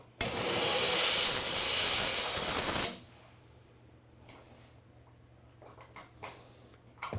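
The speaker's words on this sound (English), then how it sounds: "lucky to have the steamer so I can make sure I steam any other residue off" A handheld jewelry steamer blasts a loud, continuous hissing jet for about three seconds to clean residue off and dry a ring, then cuts off, leaving a low hum and scattered small handling clicks.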